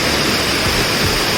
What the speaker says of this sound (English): We got down there and see the waterfall.